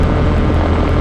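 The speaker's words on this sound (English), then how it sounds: "we're sitting in the STOL CH 750 Super Duty, and this is a factory demo airplane" A STOL CH 750 Super Duty light airplane idles at the end of a runway, its engine a steady, loud, unbroken drone with a low rumble throughout.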